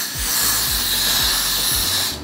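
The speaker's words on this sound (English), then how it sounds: "I'm gonna put another layer of this spray on." A can of hair spray releases a continuous, close, loud hiss for about two seconds as a layer is applied to the hair, then cuts off.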